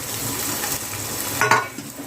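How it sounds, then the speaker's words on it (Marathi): Cabbage, peas and tomato frying in hot oil for veg fried rice, a steady close sizzle with stirring and a brief scrape of a utensil against the pan near the end. "तेलात फ्राय करून घेऊया."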